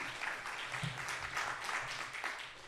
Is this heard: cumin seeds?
no